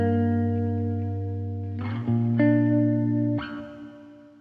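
Guitar run through an ambient pedalboard drenched in reverb, sustained chords ringing with long washy tails as new notes are struck about every second, loud and steady with no voices.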